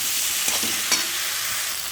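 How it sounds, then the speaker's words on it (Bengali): Tomato sautéing in a pan for a prawn and taro curry: a steady, close hiss of frying with a couple of brief stirring scrapes and no voices. "এই দেখো টমেটো দিয়ে দিলাম একটা। ভালো করে কষাতে হবে।"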